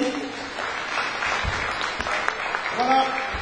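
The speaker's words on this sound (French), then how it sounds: "Bien, bien, on applaudit mes chers amis," Audience applause at a Haitian comedy festival in Paris, a moderate, sustained clapping from the crowd with a voice speaking over it and a few sharper claps standing out.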